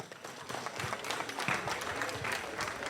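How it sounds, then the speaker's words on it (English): A debate audience applauds the two teams, dense continuous clapping from a room full of people, steady and moderately loud throughout. "Please, a round of applause to the two teams, Busu and Coronation College."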